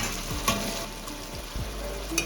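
Tomatoes with salt frying in a pan for an echor chingri (jackfruit and prawn) dish, a steady close sizzle with a few soft clacks of the stirring spoon, no talking.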